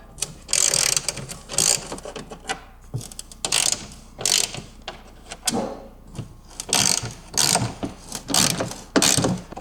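A hand ratchet loosens the bolts holding the engine case on an Onan RV QG generator, sounding as close, repeated bursts of rapid clicking separated by short pauses, with no talking.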